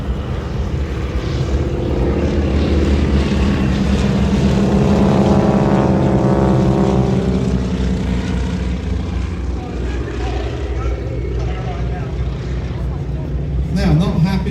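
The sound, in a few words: aircraft flying in an air show display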